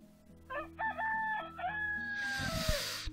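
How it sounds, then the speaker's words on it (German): A rooster crows once in the Towns video game, a clear stuttering call that rises and then stretches into a long held note, followed by a burst of rustling noise. "Da kräht der Hahn."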